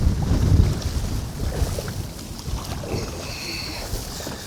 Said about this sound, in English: Oh, wow, we're fighting the wind so bad.